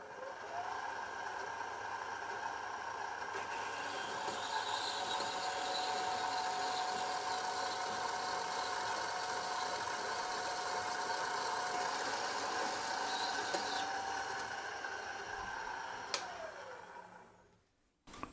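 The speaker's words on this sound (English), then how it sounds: "it's the guided bandsaw with the slide is really nice" A guided bandsaw with a slide cuts steadily through a workpiece clamped against a 1-2-3 block, a sustained mid-pitched machine drone that holds for most of the stretch before winding down and stopping near the end.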